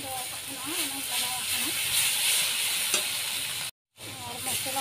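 Spices frying in a pan for a Santali-style patla jhol of ridge gourd and fish, with tomato and cumin, give a steady close sizzle and hiss that breaks off briefly near the end. Faint voices run underneath.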